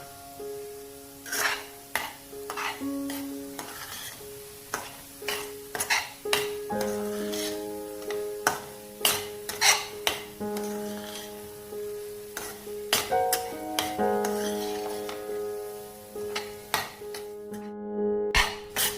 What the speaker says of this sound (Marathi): हा रवा देखील ह्याच्यामध्ये आता घालायचा आणि छान लालसर होईपर्यंत हा रवा आपल्याला भाजून घ्यायचा आहे